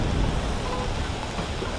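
Steady rain pours down outdoors during a street Pride celebration in New York, a dense, continuous hiss with low rumbling that may be distant thunder, heard alone without talk.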